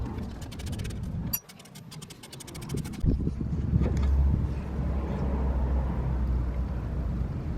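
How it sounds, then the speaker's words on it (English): A wrench loosening the brake-area nuts on a Mercedes SLK250 during a brake pad swap: a quick run of sharp ratcheting clicks, then a steadier, louder mechanical grinding rumble close by. "let's get these nuts undone"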